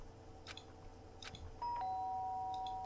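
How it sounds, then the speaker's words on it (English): A video game doorbell chimes once, a quick two-tone ding-dong followed by a lingering electronic tone, against a quiet room hum. "The sharp sound of the doorbell pierced my sleepy haze and pulled me back to the real world."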